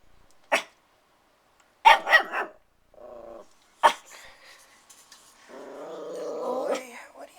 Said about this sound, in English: You're not barking at anything.